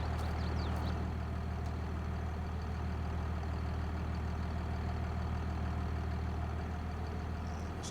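A tractor engine idles steadily in Farming Simulator 22, a constant low rumbling drone with a faint whine, unbroken for the whole stretch and with no talking.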